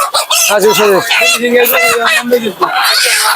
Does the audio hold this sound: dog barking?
no